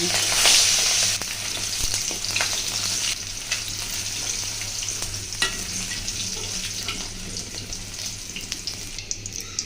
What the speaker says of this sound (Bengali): মাছগুলো আমি ছোট ছোট পিস করে কেটে নিয়েছি তারপর তেলের মধ্যে ভেজে নিচ্ছি